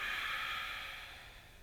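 A single deep breath during a yoga practice for endurance runners, a steady airy hiss that sounds close and soft and fades slightly toward the end.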